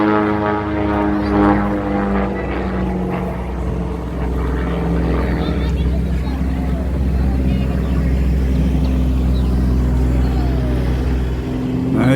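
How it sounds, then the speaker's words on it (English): Propeller airplanes at an air show roar overhead above a river at the Black Bear Festival in Plymouth, North Carolina, a loud steady engine drone that swells and fades slightly throughout. "I see 2 airplanes, and they're just flying all over the river."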